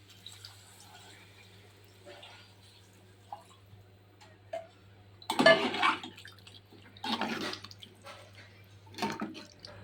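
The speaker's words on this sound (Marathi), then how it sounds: "याच्यामध्ये पाणी घालूया." Water poured into a cooking pot holding sautéed potatoes and dried fish, splashing in a few bursts after quiet stretches of faint kitchen clinks, close and without talk.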